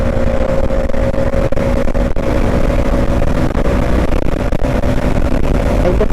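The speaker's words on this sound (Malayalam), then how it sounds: "ആ ബ്രസ ആ പോർഷേനെ ഓവർടേക്ക് ചെയ്യാൻ നോക്കണേ." A Maruti Brezza trails a Porsche 911 on a highway, heard as a steady, loud rush of engine and road noise with wind buffeting, constant throughout without a clear rev change.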